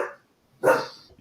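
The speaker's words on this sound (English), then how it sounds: "that dog, we only heard it snore and bark now" A 40 kg bulldog gives a single loud, close bark after a brief quiet moment, with no talking.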